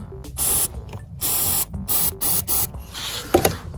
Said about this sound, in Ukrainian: залазимо сюди балончиком.